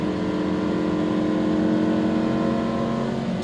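A Lamborghini Huracan accelerates on a race track, its engine a loud, steady, close drone of layered tones that holds nearly constant throughout.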